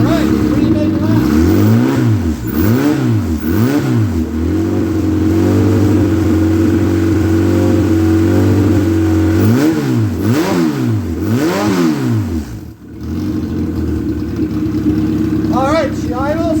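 A Dodge Neon engine running on the floor is revved repeatedly, rising and falling in pitch in loud surges, with a longer held high rev in the middle and more blips near the end.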